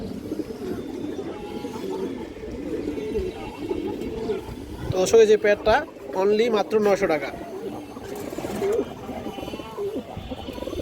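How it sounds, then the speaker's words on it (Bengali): Pigeons coo softly in the background at a pigeon market, among high flyer and racing birds, while someone talks almost continuously over them. "খুব সুন্দর কবুতর"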